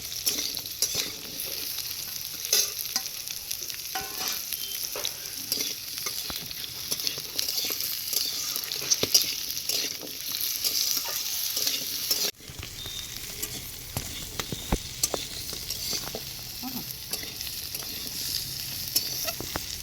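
Pumpkin and potato sizzle in hot oil in a pan while being stirred, with a continuous frying hiss broken by frequent scraping and clinking strokes, and a brief drop partway through before the sizzle resumes.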